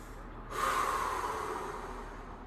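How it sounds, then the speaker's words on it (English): One long, deep breath drawn and let out during a stretch in a core workout, starting with a sudden nasal rush and fading slowly. It is close and fairly quiet. "take a few deep breaths"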